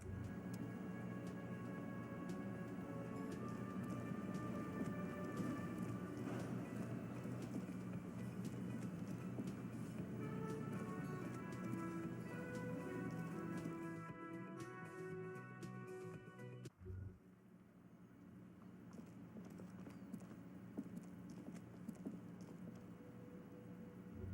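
A steady hiss of rain falls continuously in the game Disco Elysium, with soft game music and tones playing over it; the music briefly drops out near the end.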